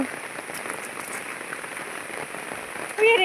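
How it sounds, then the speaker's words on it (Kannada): Steady, dense rain hiss pours down continuously, with a brief louder burst near the end. "ಆದರೆ ಮಳೆ ಜೋರು ಬರ್ತಾ ಉಂಟು, ಬಿಡುವುದೇ ಇಲ್ಲ"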